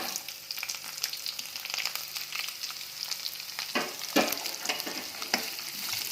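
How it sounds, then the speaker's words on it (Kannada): Onions and curry leaves fry in hot oil in a pan, a dense close sizzle with occasional louder spits and stirring scrapes, and no voice. "ಇವನ್ನ ಚೆನ್ನಾಗಿ ಎಣ್ಣೆಯಲ್ಲಿ ಫ್ರೈ ಮಾಡ್ಕೋಬೇಕು."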